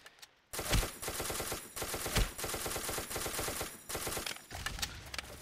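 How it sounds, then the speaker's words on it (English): Rapid automatic gunfire in the video game Ace of Spades: long, loud, continuous bursts broken by brief pauses, dense and close, with no talking over it. "I've been shooting them the whole time"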